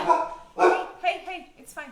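A pet dog barks indoors during a live thickened-liquids demonstration, with a few short barks and yips overlapping a person talking nearby.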